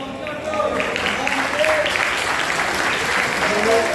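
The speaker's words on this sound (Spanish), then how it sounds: "Un aplauso para él" Applause from a gathered audience swells after the first half second and holds steady, full and continuous throughout, with some voices faintly beneath it.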